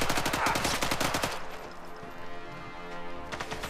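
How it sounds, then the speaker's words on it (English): Machine gun fire in the video game Sniper Elite 5, a loud rapid burst of evenly spaced shots for just over a second, then ringing echoes and quieter scattered battle noise. "I'm bringing out my machine gun."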